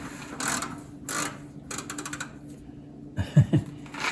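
A ratchet works loose the lone bolt holding the oil pan on a 1929 Model A Ford, giving short bursts of quick metallic clicking separated by pauses, with a few heavier clunks near the end.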